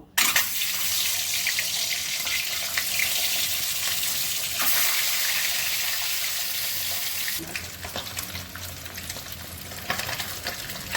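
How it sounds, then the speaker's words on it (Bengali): Duck eggs frying in hot mustard oil in a home kitchen give a steady, loud hiss and sizzle that carries on for about eleven seconds, shifting texture partway through as the eggs settle, with no voices. "এবার আমি ডিমগুলো ভেজে নেব।"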